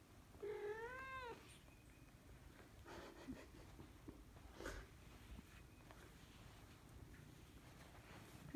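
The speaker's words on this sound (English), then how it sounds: "Oh, dear Panda purring." A cat purrs softly and close by in a quiet room, a brief meow-like call at the start, then low steady purring with faint rustles underneath.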